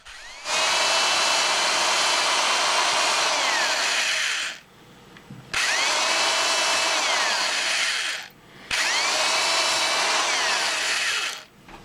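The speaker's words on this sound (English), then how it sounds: "I'll have to drill a couple of holes first, or drill 3 holes" A power drill bores holes through a live-edge wood block being cut for fairy house bookends on a scroll saw, three loud sustained whines of about four seconds each, the motor's pitch rising and falling, with brief pauses between.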